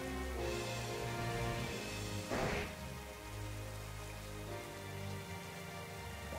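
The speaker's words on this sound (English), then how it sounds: "And it's raining." Rain falling in the Pokemon Sword and Shield Isle of Armor game, a steady hiss of rainfall layered over tonal background music, with a brief louder swell partway through.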